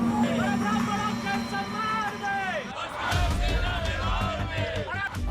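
A protest crowd in India chants slogans against Anurag Kashyap, with many raised voices shouting together in rhythmic, overlapping bursts.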